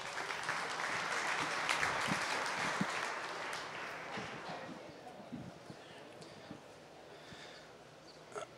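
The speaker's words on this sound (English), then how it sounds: "let's give Brian Carskadden a huge round of applause" Audience applause at a Wisconsin dairy cattle championship show, a broad clapping swell that fades over several seconds into scattered claps and livestock shuffling in an arena.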